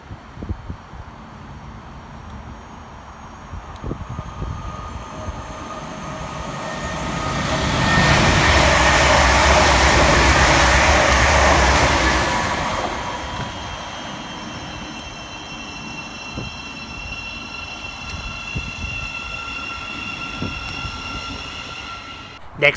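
An East Midlands Railway Class 360 passenger train rushes through Hendon station at speed, its roar building to a loud sustained peak for several seconds before fading, with background ambience either side.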